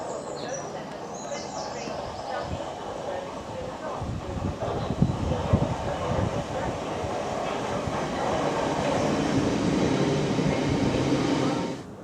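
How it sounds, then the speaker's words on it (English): A Bexleyheath-bound passenger train rumbles past Shortlands railway station in London with a rising roar and rattling wheels, loud and close, then fades slightly at the end. "oh, and here comes the Bexley Heath train."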